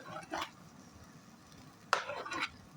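Two short bursts of scraping and stirring an egg mixture in a pan, separated by a quiet pause, close and fairly soft.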